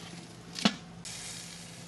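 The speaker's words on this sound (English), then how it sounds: "Get a nice sear going on that. And you can hear that, huh?" A steak sears on the grill grates of a Weber Q with a quiet, steady sizzle, broken by one sharp scrape or flip, after which the hiss rises and carries on.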